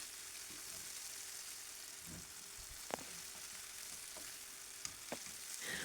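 Eggplant pieces frying in a pan of oil: a faint, steady sizzle with scattered small pops and clicks.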